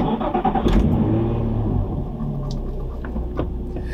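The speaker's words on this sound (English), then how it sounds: "I'll go ahead and start this one up too, but it will not sound as cool" A Nissan 350Z engine with stock exhaust cranks and catches, then settles into a steady, loud low idle rumble with a few small blips, close by.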